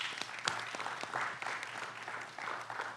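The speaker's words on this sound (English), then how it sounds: "Let's give them a big round of applause." Audience applause at a Fulton County, Georgia commissioners' meeting, steady dense clapping with a few sharper claps standing out, moderately loud and continuous throughout with no talking.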